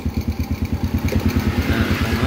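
A motorcycle engine fitted with an Aspira regulator revs in steady, close, loud pulses during a charging test, its throbbing low thrum held throughout with no talk.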